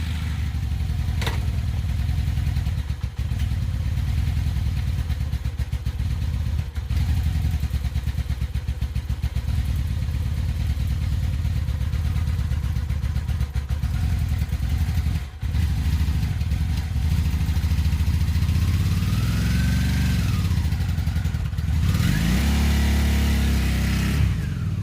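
A leaking motorcycle engine runs loud and close with a throbbing, clattery idle, then revs up and down in rising and falling sweeps near the end.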